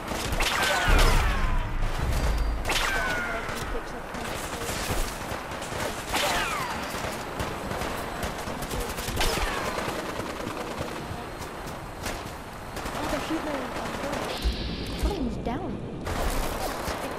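Gunfire rings out through a Fallout 4 battle: dense, repeated bursts of shots and fast automatic fire go on almost without pause, loud and close, with voices talking at moments.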